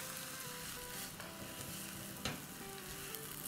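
Spinach and potatoes fry in a pan over high heat, giving a steady, loud sizzle with faint stirring scrapes throughout.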